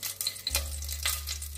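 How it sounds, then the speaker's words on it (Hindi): Mustard and cumin seeds hit hot oil in a pan for a Goan white pea curry, giving faint crackling pops and a soft sizzle over a low steady hum. "तेल तापले. आता घालया आमी मस्टर्ड सीड आनी"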